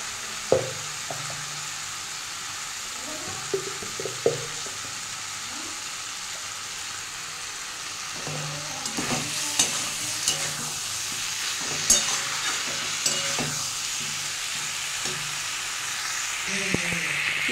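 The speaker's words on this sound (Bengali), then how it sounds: "আর একটু কষিয়ে নিচ্ছি এই মেথিটা দেওয়ার জন্য।" Masala for a fish curry stir-frying in a pan with kasuri methi, a continuous low sizzle broken by frequent clicks and scrapes of a spatula against the pan, growing a little busier and louder partway through.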